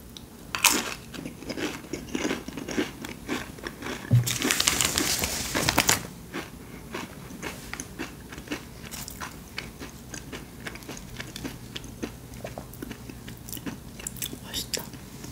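Crunchy mint chocolate Bananakick snack is bitten and chewed up close in irregular crisp crunches, with a brief louder crinkling burst of packaging, under occasional soft talk.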